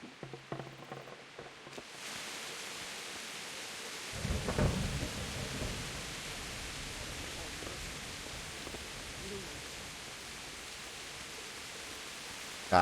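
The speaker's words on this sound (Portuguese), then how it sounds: "Caraca, velho, que chuva é essa" Heavy rain pours steadily in the medieval role-playing game Kingdom Come: Deliverance, with a rumble of thunder rolling in around the fourth second, all heard without talk.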